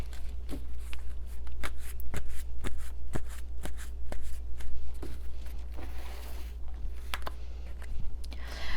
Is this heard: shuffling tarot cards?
yes